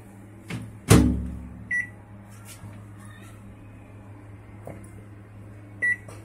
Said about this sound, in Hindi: इसको हम माइक्रोवेव में रख देंगे और माइक्रोवेव को स्टार्ट करेंगे